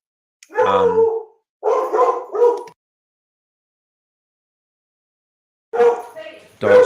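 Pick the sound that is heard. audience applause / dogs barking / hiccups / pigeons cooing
dogs barking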